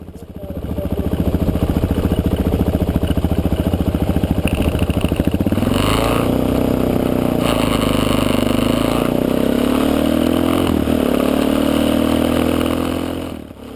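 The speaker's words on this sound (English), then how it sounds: "his engine is all of a sudden making a sound again. So he's kicking it over, having me take a listen, and yep, the valve noise is back." A motorcycle engine on a Baja tour is kicked over and runs with a ticking valve noise: a loud, steady, close idle lasting over ten seconds, its pitch shifting once partway through.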